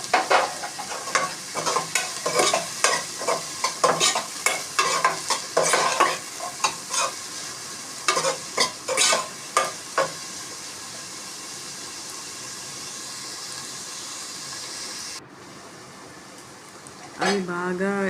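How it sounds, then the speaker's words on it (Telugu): Onions and green chillies fry in a pan while being stirred, with steady scraping strokes over a constant sizzle for most of the stretch, then a quieter hiss near the end before a brief burst of stirring. "పచ్చిమిర్చి వేసుకున్న తర్వాత కొంచెం సేపు బాగా ఫ్రై అవనివ్వాలండి"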